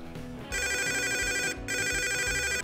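A telephone rings in the video game Forza Horizon 3, two bursts of a bright electronic trilling ringtone separated by a short gap, clear and prominent over a faint background.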